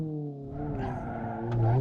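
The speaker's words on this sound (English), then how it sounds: "the engine is just sitting at red line screaming, droning on, while the car just leisurely picks up speed" A Hirochi Sunburst 1.8 engine in BeamNG.drive holds a steady, high-pitched scream at red line, droning loudly with harmonic layers and swelling slightly near the end.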